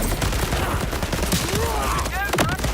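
Assault rifle fire in the video game Borderlands 4, rapid bursts of shots crackling close and dense over game sound effects and music.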